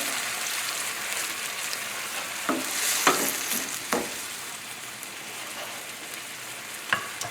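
Dry white wine and clam juice heat over a high flame for a tarragon salmon or steelhead dish, making a constant close hiss and sizzle with a few scattered soft clinks and taps.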